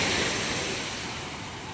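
Big sea waves roll and wash near a fishing boat at sea, a loud continuous surf roar with wind noise and no voices.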